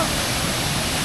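Roaring waterfall at Kempty Falls near Mussoorie, a steady broadband rush of falling water filling the whole second, close and loud with no break.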